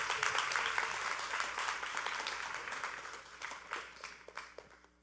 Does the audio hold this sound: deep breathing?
no